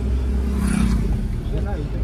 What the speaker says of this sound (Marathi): त्यातल्या त्यात गाड्या चालू.